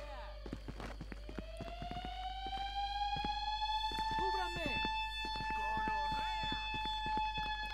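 A rising electronic alarm siren from a stealth heist video game blares steadily with layered tones, while someone talks over it throughout.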